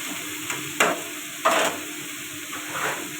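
Pumpkin, potato and ridge gourd curry with salt being stir-fried in a pan: a steady sizzle with a few louder scraping stir strokes, close up and with no talking.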